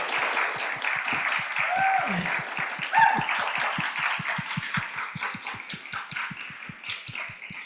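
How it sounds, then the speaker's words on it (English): An audience applauds panelists after a discussion, a thin, steady patter of claps continuing throughout with a couple of brief voices near the start. "I hope that you'll join me in giving them a round of applause for this amazing work and discussion"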